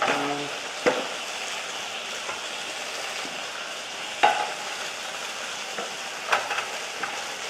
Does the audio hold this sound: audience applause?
no